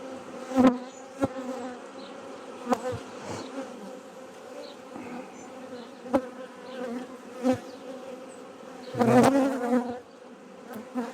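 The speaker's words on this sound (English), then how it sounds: "Good, quite contented bees." A steady drone of many honeybees from a newly housed swarm buzzing close by, continuous and moderately loud, with occasional louder passes and soft knocks.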